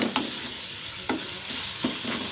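Onions and eggs frying with spices in a pan for onion egg curry, a steady close sizzle broken by a few scraping stirs of a spatula at regular intervals.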